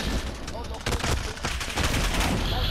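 Gunfire rattles in the Call of Duty: Modern Warfare video game, with rapid, loud broadband bursts close up that are repeated over a dense background of battle noise.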